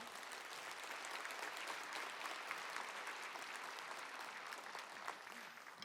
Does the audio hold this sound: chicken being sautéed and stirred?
no